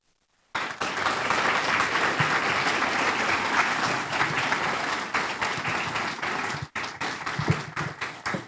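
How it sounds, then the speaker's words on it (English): An audience applauds after a speaker at a Wichitalks event, with loud, dense clapping that starts abruptly and holds steady for about eight seconds, breaking briefly near the end. "Thanks for that wonderful applause"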